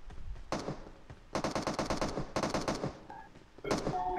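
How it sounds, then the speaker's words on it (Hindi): Rapid automatic gunfire from the mobile shooter game PUBG Mobile comes in several loud, close bursts of fast repeated shots separated by short pauses. "मेरे को बस गोली की साउंड आ रही है।"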